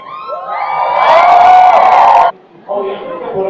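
A crowd at a fan convention in Puebla cheers and shouts, swelling loudly for about two seconds, then breaking off abruptly before a quieter burst of voices returns.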